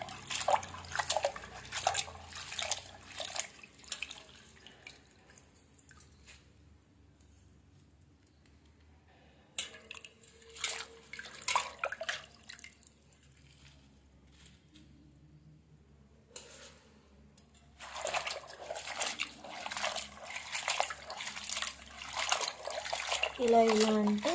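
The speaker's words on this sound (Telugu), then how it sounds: "ఇప్పుడు ఫ్రెష్గా వాటర్ తీసుకొని మళ్ళీ కడుక్కోవాలండి" Gongura leaves washed by hand in fresh water, with bursts of splashing and sloshing in three stretches separated by quieter pauses, close and fairly loud.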